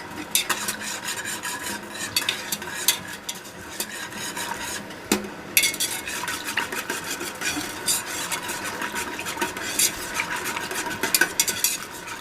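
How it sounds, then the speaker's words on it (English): A spoon stirs pectin into apple cider in a pot with steady scraping and swishing, broken by frequent small clinks against the pot's sides, continuing throughout. "Stir this really well to make sure that the pectin doesn't clump anywhere in there."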